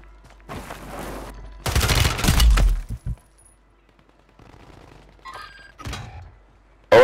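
Gunfire in Call of Duty: a short, loud cluster of close shots, then quieter scattered impacts and mechanical clinks with pauses between them, ending on a sudden sharp bang.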